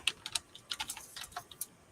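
Fingers tap quickly on a computer keyboard, a close run of light, uneven clicks with small pauses and no voices.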